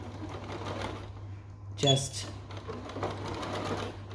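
A sewing machine stitching a pair of children's long pants hums steadily in the background while a person talks over it, with a brief louder mechanical clatter near the middle.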